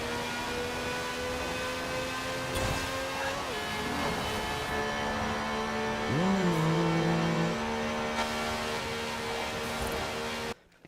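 A Forza Edition Transit Van from Forza Horizon 4, tuned to about 1,200 horsepower, drones with a steady engine tone that rises and swoops as it revs. The sound is continuous and fairly loud, with no talk over it.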